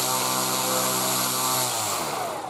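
A CNC-made wooden propeller whirs loudly at full throttle on a thrust test rig, a dense high buzzing drone that starts winding down partway through.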